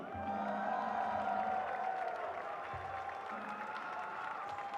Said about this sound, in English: Overall winners, we welcome with big applause.